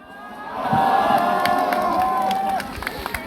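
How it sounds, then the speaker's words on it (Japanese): A crowd cheers and shouts with sustained, loud enthusiasm at the entrance of the Tadami Snow Festival in Japan, a steady swell of voices with scattered louder whoops. "入場の際は、温かいご声援誠にありがとうございます"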